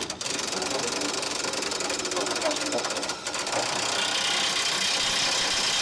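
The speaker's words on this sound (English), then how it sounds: "I'm going to zippy that back down with the impact." An impact wrench runs under the axle of a 1973–1979 Ford Dentside truck, tightening the nut on a radius arm during a bushing replacement. The tool hammers steadily and loudly for nearly the whole stretch, with a brief break near the middle.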